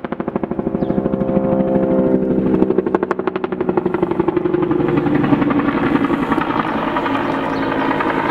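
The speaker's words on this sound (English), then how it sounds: "I ended up with the sound of a helicopter, which is passing at low altitude" A helicopter passes at low altitude, its rotor chopping in a loud, rapid, steady rhythm that swells to a peak near the midpoint and then settles, with a continuous engine whine underneath.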